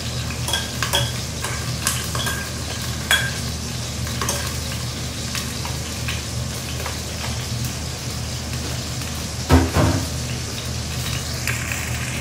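Steady sizzling of galunggong fish frying in a pan with garlic, with scraping, clinking stirring strokes throughout and a louder clatter near the end, no voices.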